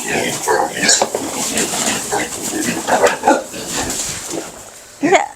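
Pigs on an organic farm in Udon grunt and squeal in short, irregular bursts at close range, with a louder cluster near the end and people talking faintly underneath.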